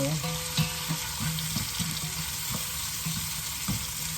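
Garden tomatoes frying in a pan give a steady sizzle with irregular stirring clinks and scrapes, heard up close.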